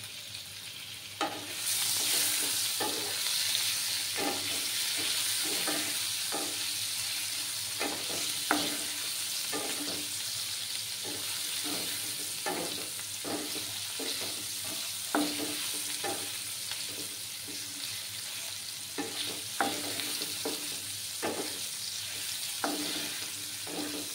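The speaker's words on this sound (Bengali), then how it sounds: "পনিরগুলো ভালো করে ভেজে নেব, বেশি ভাজবো না।" Paneer cubes frying in a pan for an Alu Paneer dish, a continuous bright sizzle with repeated scraping and stirring clicks of a spatula throughout, steady and close with no talking.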